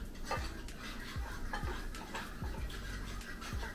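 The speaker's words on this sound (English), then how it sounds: "place the eggs right in there. And we'll scramble our eggs slowly" Eggs scrambled slowly in melted butter in a pan for a pork breakfast burrito, heard as a quiet, faint series of evenly spaced spatula taps and scrapes against the pan over a low background hiss.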